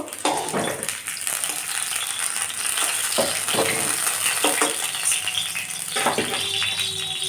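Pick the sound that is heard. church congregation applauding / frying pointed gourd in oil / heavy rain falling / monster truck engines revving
frying pointed gourd in oil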